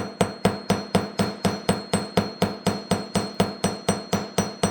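A hammer strikes the wire of a cab frame over and over to remove dings, sharp metallic taps landing at an even rhythm of roughly three per second, close and clear with no talking.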